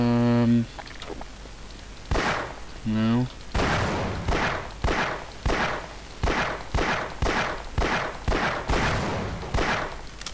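Gunfire rattles in Half-Life, a steady series of about a dozen loud, evenly spaced shots, each a sharp crack with a brief tail, after a couple of tonal game sounds at the start.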